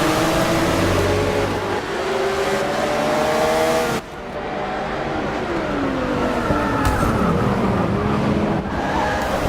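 Several engines of race cars in a racing video game roar together at the start of a race, a continuous loud layered drone with rising and falling pitch sweeps as the pack accelerates, a brief dip midway.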